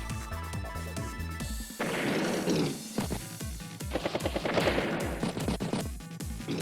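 Rapid bursts of machine gun fire from the turn-based strategy game Advance Wars by Web, crackling over a looping background music track in a few clustered volleys, fairly loud and close.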